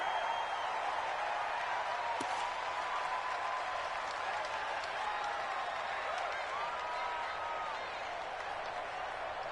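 Stadium crowd noise from the video game Madden 20, a steady, even roar of cheering and applause that holds for the whole stretch, with a brief sharp accent early on and no voices standing out.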